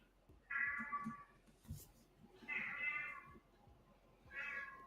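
A cat meows three times outside, drawn-out and plaintive, at moderate distance over a quiet background.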